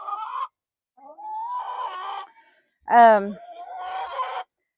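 Several lavender Orpington hens clucking and murmuring nearby in short drawn-out phrases, with one sharper, louder squawk in the middle; no talking.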